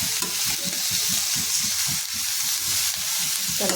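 Amla pieces are stirred into jaggery cooking over a low gas flame, a loud close bubbling sizzle with rhythmic stirring scrapes repeating through the whole stretch.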